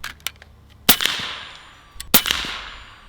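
Two sharp cracks from an AEA HP MAX 357 air rifle firing pellets at a steel target 30 yards away, each shot followed by a quick metallic ring, spaced about a second apart with quiet between.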